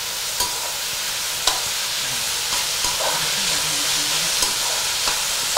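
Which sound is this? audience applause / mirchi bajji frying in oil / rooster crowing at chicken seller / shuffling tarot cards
mirchi bajji frying in oil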